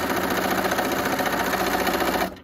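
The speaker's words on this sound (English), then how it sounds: "It's just going to be a zigzag with the lace on top of the fabric." A sewing machine runs a steady zigzag stitch, attaching lace on top of fabric, whirring continuously and close by with a fast, even rhythm before stopping abruptly at the end.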